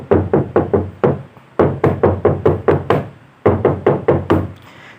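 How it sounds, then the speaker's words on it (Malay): Loud, hard knocking on a room door in a dormitory hostel, struck from inside in quick bursts of four to six blows separated by short pauses, close and sharp with no voices. "tiba-tiba aku dengar pintu bilik nombor 4 tu kena ketuk dari dalam"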